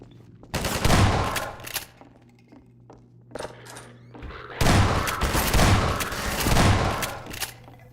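Close-quarters shotgun fire in a first-person video game, heavy blasts bunched into two loud bursts a few seconds apart with quieter clatter and movement between them.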